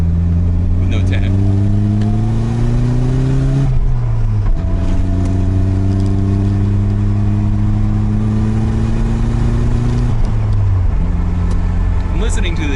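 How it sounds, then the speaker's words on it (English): Nissan 200SX engine running lean, revving in long rising pulls with strong harmonic sweeps, each climb dropping off and repeating three times, loud and close throughout. "listening to the engine, it sounds lean to me"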